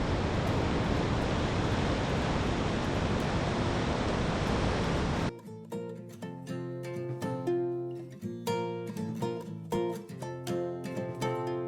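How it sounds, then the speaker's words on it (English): Massive Atlantic waves at Nazaré, Portugal, heard as a dense, steady roar of surf for about five seconds, loud and unbroken, before it cuts away to music. "The reason for these massive waves is the Nazaré Canyon"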